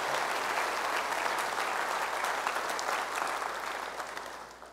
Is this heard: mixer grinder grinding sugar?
no